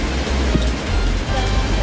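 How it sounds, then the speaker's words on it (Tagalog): Heavy typhoon rain pours down in Balanga, Bataan during Typhoon Maring, a steady, dense roar of falling water that continues unbroken throughout. "Ganito kalakas ang buhos ng ulan sa lungsod ng Balanga."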